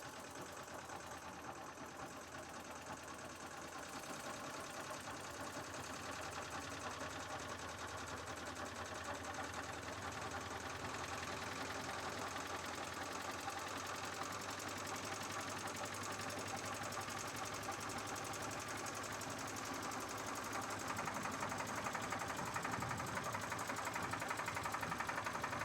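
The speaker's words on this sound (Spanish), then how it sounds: "Estoy aumentando las revoluciones gradualmente." A machine's engine is gradually revved up during a pressure test, a steady dense mechanical drone with a rattling, sewing-machine-like chatter that slowly grows louder and fuller over the run, with no voices.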